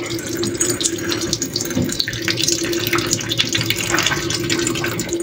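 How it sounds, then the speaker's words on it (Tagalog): Water running steadily from a kitchen mixer faucet at low pressure into a sink, a continuous splashing hiss with a faint hum underneath. "Mahina ang tubig."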